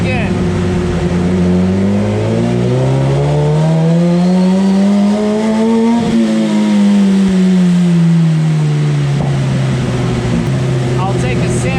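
On a dyno, a 2016 Suzuki GSX-R1000 motorcycle engine revs steadily upward, peaks, then falls back as the throttle is eased, its loud, continuous whine sweeping in pitch throughout.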